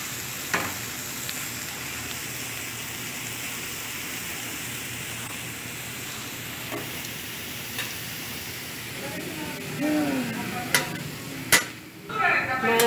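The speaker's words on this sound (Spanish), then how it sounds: "agarran y echan todo lo que es al sartén, los chilitos, la cebolla y los champiñones" Chilies, onion and mushrooms fry in a pan with a steady, even sizzle throughout, and a few sharp clinks of a utensil striking the pan come through during stirring near the end.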